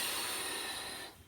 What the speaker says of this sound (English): nice forcefully exhale through pursed lips